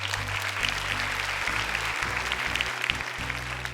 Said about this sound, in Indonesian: silakan tepuk tangan untuk Kak Fat